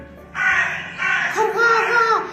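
A crow caws in a Kazakh children's story about a swallow seeking help: two bright, harsh caws follow each other closely, loud and near, the second stretched and wavering.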